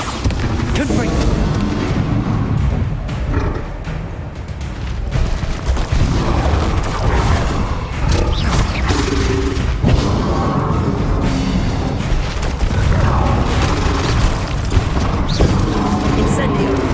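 Spell blasts from Bombarda and Confringo in Hogwarts Legacy, a dense barrage of booming impacts and crackling bursts that stays loud and close throughout, with casting voices mixed into the din.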